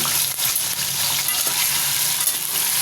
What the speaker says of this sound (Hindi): सबसे पहले हम एक कढ़ाई लेंगे, 1 कप ऑयल डालेंगे और उसमें चिकन डाल देंगे।